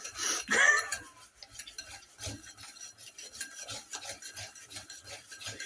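Chocolate cake batter whisked by hand in a bowl, a steady rhythmic scraping and rasping of wire against the bowl repeating at a quick even pace, close and clear with no talking.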